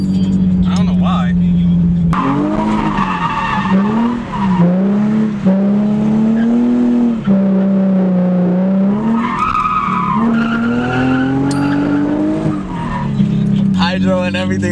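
A car drifting in circles lets out loud, sustained tire squeals that waver and bend in pitch, with short breaks as the slide changes, then more squealing near the end.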